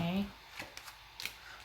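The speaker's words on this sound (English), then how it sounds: "Hold on a minute, Lenormand cards." Lenormand cards are shuffled by hand in a few quick, soft riffles and slaps after a brief burst of voice, faint and close.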